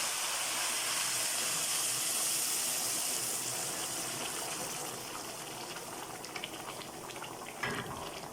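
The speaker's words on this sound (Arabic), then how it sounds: "طبعا احنا ايه الشوربه طبعا بتغلي" Soup bubbling at a steady boil in a pot, ready for the rice in a kidney-and-rice dish; a continuous, close, hissing roil of bubbles that eases slightly partway through, with no talk.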